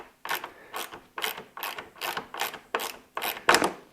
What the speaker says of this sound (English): So you're going to need a ratchet or something.